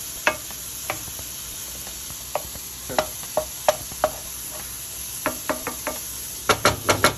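Sautéed mushrooms stirred in a frying pan for a pork burger, a low sizzle broken by a string of sharp utensil knocks and scrapes that bunch into a rapid cluster at the end, with no talking.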